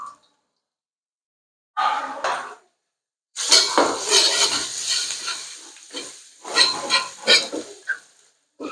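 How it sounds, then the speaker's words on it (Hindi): Crushed red chilli and chopped garlic sautéing in two tablespoons of cooking oil for chow mein, heard as bursts of clattering pan and utensil scraping with sizzle, separated by brief silences. "क्रश चिल्ली और गार्लिक को आपने अच्छी तरह से सोटे कर लेना"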